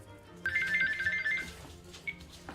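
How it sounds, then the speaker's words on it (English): A phone ringer trills in bursts, a warbling electronic tone repeating a few times at moderate volume with background noise between. "the phone hasn't stopped ringing"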